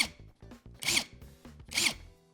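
Budget cordless impact wrench spinning in reverse in auto mode: short bursts of whirring motor, two louder rattling surges among quieter pulses, close and alone.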